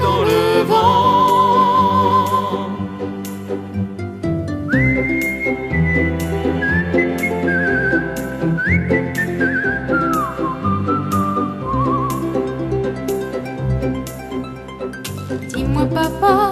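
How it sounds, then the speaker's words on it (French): A person whistles a lilting melodic tune over accompanying music, the clear whistled notes sliding and rising above a steady rhythmic backing for the whole passage. "J'ai besoin d'air, de siffler dans le vent."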